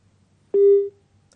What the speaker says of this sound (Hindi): तो अजय जी ने फोन काट दिया है